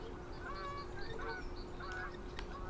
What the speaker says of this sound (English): there's some geese flying over.